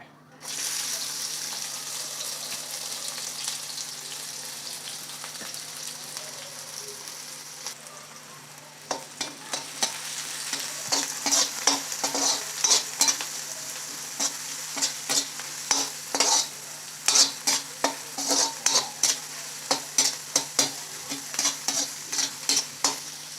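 Five or six cut shallots fried in about 50 grams of oil for egg rice: a steady hiss at first, then a louder crackling sizzle punctuated by repeated sharp scrapes and clinks of stirring.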